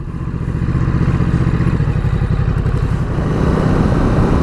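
A Ducati Multistrada 950 motorcycle out on a short ride, its engine a steady, loud, close drone with a slight rise in pitch toward the end and no voices.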